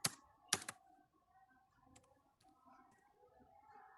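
A few sharp, close clicks of typing on a computer keyboard, followed by softer, scattered keystrokes in a quiet room.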